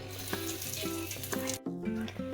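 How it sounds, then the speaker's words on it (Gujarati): Cumin seeds and curry leaves sizzle in hot oil, a continuous crackling hiss with brief pops, heard close over steady tonal background sound and broken by one short dropout. "હવે આપણે તેલમાં જીરું અને કડી પત્તા નાખીશું"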